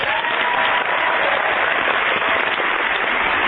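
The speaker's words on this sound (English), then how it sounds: "Round of applause." An audience gives a round of applause during a radio talk show, a dense, steady crackle of many hands clapping that stays loud and even for a few seconds.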